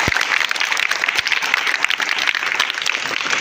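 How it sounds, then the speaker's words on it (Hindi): Children in a classroom at a school progress-report and convocation event in Bihar clap together, a loud, brisk burst of close, crisp handclaps with uneven rhythm. "चलिए सब लोग ताली हो जाएगी।"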